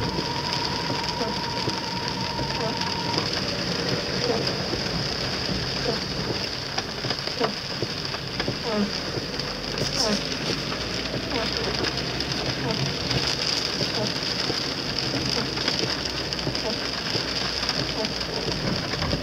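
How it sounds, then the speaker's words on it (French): Heavy rain from Cyclone Doumazile on Réunion pours down as a steady, dense hiss with scattered droplet hits, a faint engine hum underneath and a brief tone near the start. "On a beaucoup de pluie"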